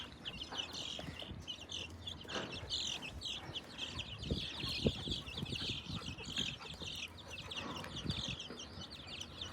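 Hens cluck and chicks peep continuously nearby, with soft rustling and occasional wing flaps beneath the chatter of the flock.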